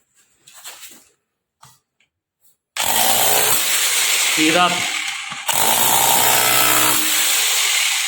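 A Mitsushi rotary demolition hammer drill runs in hammer-only mode against concrete, loud rapid hammering in two long bursts with a short pause between, after a few brief spoken words.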